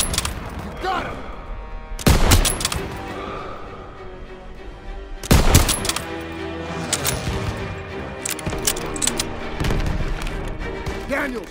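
Heavy gunfire and explosive booms from a Call of Duty WW2 campaign battle in a stronghold street fight, with two loud broadband blasts and dense crackling shots over a rumbling battlefield bed, while voices shout beneath the combat.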